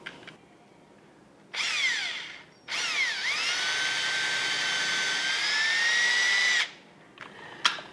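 A power drill drives a screw into the wooden frame of a futon bed. It gives one short whine, then a longer, steady high whir lasting several seconds. The bursts are loud and close, with quiet gaps between them.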